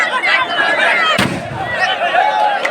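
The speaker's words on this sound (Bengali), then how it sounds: "এখন আতশবাজি হবে।" Fireworks set off at a football match event: one sharp, loud bang rings out midway over the steady hum of a crowd and an announcer talking on a public address system.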